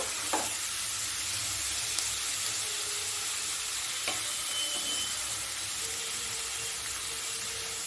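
Onions frying on medium flame in a pan for duck egg korma, a steady close sizzle with a few stirring clicks and scrapes, no talking.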